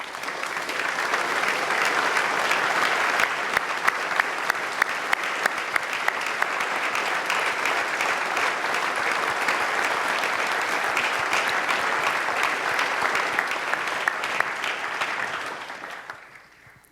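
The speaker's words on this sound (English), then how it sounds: "Would all of our directors and deputy directors please rise for a well-deserved round of applause?" A long, sustained round of applause from the audience at the Honolulu State of the City address as city directors and deputy directors stand, dense and steady clapping that fades out at the end.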